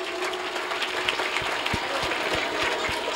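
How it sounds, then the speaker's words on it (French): At a school year-end celebration, a crowd gives brief applause to welcome the head of the school, with a burst of clapping and some irregular thumps over steady room noise. "veuillez accueillir Madame Sy sous vos applaudissements"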